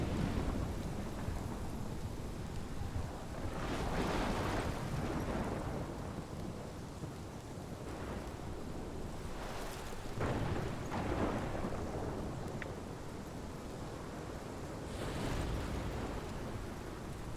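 Thunderstorm in Life is Strange: heavy, steady rain hisses throughout while several rolling thunder crashes swell around four, ten and fifteen seconds, loud and close, with no voices.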